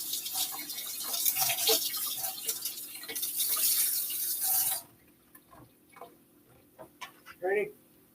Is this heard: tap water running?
yes